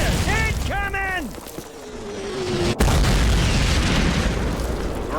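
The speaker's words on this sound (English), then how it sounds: "Mortars!" Mortar fire in the 2003 Call of Duty 1 game, heard as a heavy, continuous rumble of explosions with one sharp crack partway through. Shouted voices and a rising whistle come early, over dense battle noise.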